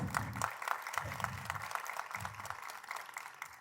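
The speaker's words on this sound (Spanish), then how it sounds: "un aplauso para ellos" Audience applause at a summit gathering, a dense wash of clapping running steadily through the whole few seconds, with low rumbling bursts from the room underneath.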